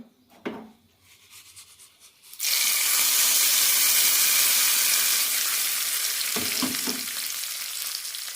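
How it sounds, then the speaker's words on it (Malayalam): Mustard seed tempering poured into a green gram and pumpkin curry: a few light clinks, then a sudden loud, sustained sizzle that slowly fades, with brief utensil taps near the end. "കടുക് തളിച്ചതിടാം"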